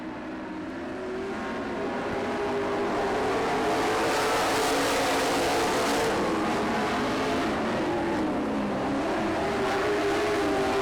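Race cars roar past on the track during the final laps, a loud, sustained engine drone that swells and holds as the pack sweeps by close.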